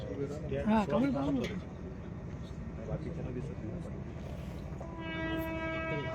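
A train rumbles past near a railway overbridge at Kanhe, Maval, and its horn sounds a long, steady blast near the end. A voice is heard briefly at the start.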